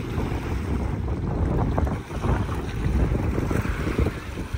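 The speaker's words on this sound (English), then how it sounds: "The ship is just passing by us," A bulk carrier ship passes close to shore at Morgan's Point near Houston, Texas, a low, steady rumble heard under heavy wind buffeting the microphone, with no voices.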